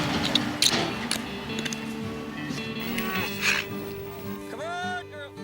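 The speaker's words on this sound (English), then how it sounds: "And the cows look the same" Cattle on a large ranch low and moo amid a busy outdoor background, with a clear drawn-out moo near the end and fainter lowing earlier.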